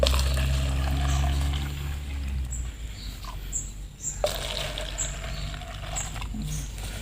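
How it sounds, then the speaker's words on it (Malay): Water pours into a makeshift pot before planting a snake plant, a steady splashing trickle with a low gurgling underneath, near and continuous, with faint bird chirps in the background. "Jadi mula-mula tambahkan air."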